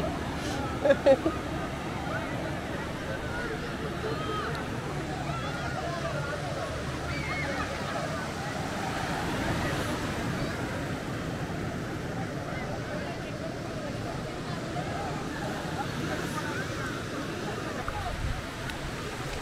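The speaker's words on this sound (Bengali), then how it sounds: "কি ভয়ঙ্কর পানির আওয়াজ দেখছেন" Ocean surf at Cox's Bazar beach: a steady, broad wash of waves rolling and breaking close by, continuous roar throughout with people talking faintly in the background.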